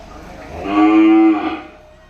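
A cow lets out a single loud, drawn-out moo at close range, rising and holding for about a second before fading, heard alone over faint farmyard background.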